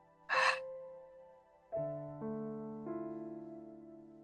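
One short, breathy exhale sounds close by during a gentle breathing exercise, followed by soft, sustained, ringing musical tones.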